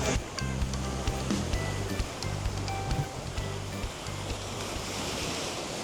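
Steady surf washes onto a beach in Bol on Brač island, Croatia, a continuous broad roar of waves with wind buffeting the microphone throughout and no voices.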